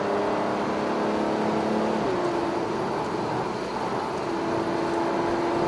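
A car drives continuously, its engine note shifting with a drop in pitch around a downshift before the revs climb again, steady and close throughout with no talking.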